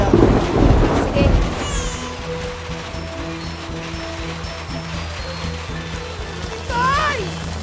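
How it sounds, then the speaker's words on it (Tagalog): Heavy rain pours steadily as a dense wash of noise beneath a low rumble, with a brief musical tone and other faint sounds rising over the downpour near the end. "Lakas ng ulan"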